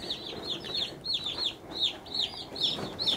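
Young broiler chicks in a brooder pen with wood shavings cheep and chirp steadily around a water fountain, a dense overlapping chorus of high peeps close by with no talking.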